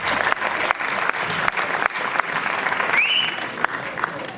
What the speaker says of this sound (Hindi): तव्हां त तॾहिं बि हेॾी ताड़ियूं वॼायो था